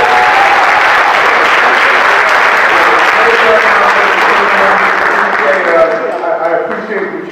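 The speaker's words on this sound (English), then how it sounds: "so can we give him a round of applause?" Loud, sustained audience applause at a fathers' conference honors the mayor of Linden, a thick wall of clapping that thins toward the end as voices begin to emerge.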